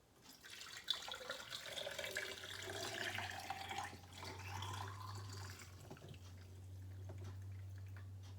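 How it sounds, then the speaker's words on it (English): Hot salted water poured into a glass jar packed with eggs, a soft, fairly faint trickling and gurgling pour that swells and settles, with a low steady hum underneath. "Pour this hot water with salt in it"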